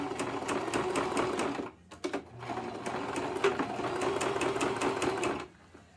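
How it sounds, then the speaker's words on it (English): Sewing machine stitching a fabric armor scarf, rapid rhythmic needle bursts in several runs with short pauses between, close and fairly loud. "We're just gonna sew this real quick."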